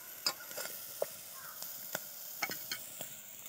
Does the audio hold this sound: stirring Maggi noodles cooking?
yes